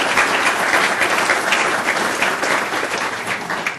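Audience applause fills a talk event, a dense, steady wash of many hands clapping at even loudness from start to finish, with no voices over it.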